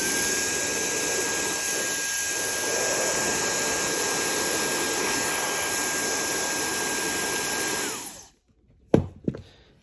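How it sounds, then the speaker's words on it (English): A Gamma hair dryer running at its maximum setting gives a loud, steady broadband roar with a high whine for about eight seconds, then cuts off abruptly, followed by a couple of faint clicks and handling noises. "Here is the Gamma."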